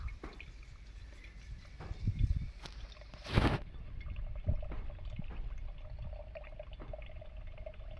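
A short splashing gush of coconut water pouring into a metal pot, brief and close, with quiet clunks and handling noises around it.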